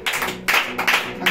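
A congregation at a church service clapping in quick bursts, three or four close, loud rounds of hand claps acclaiming Jesus.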